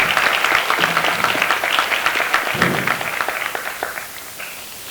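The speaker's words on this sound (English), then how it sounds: "Please join me in applauding my Choice Award recipient, Ms. Kimari Morgan." An audience at a teacher's choice awards ceremony breaks into warm applause, many hands clapping in a dense patter that gradually thins and fades toward the end.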